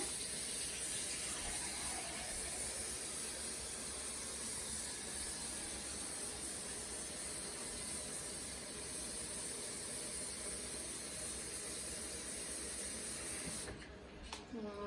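A full quart of liquid pours steadily into a seafood gumbo pot, a continuous loud gushing rush lasting many seconds before tapering off near the end, with no voices.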